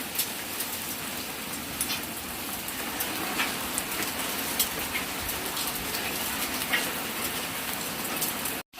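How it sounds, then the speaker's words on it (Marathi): Heavy rain mixed with hailstones falls in a steady, dense patter, scattered sharper ticks and taps standing out above the continuous downpour before it cuts off abruptly. "थोडा मोठा पाऊस आहे आणि गारा पडतो त्याच्यामध्ये."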